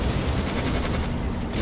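Dense, continuous gunfire and explosions rumble in the video game Codename: Panzer, a loud rolling barrage of overlapping shots filling the whole moment with no pause.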